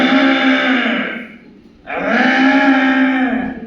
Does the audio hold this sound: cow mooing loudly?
yes